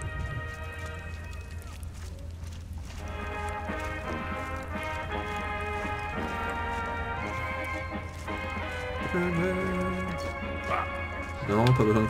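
Barking and yipping from a dog in the World War I video game Soldats Inconnus: Mémoire de la Grande Guerre, heard under steady background music with occasional in-game sound effects.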